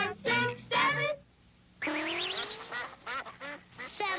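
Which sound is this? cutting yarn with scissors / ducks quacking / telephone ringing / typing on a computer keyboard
ducks quacking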